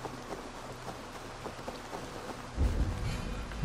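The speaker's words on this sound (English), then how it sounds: "Raining, guys." Steady rain hiss in the Assassin's Creed Valhalla video game, with a low rumble swelling louder near the end, as of thunder or a gust, and no voices.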